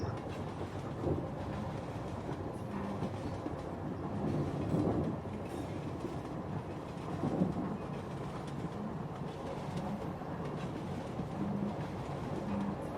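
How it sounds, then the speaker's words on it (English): A train rolls steadily over railway tracks with a continuous low rumble and soft, recurring clickety-clack, moderately loud and without speech. "the sound of the train tracks becomes a soothing lullaby"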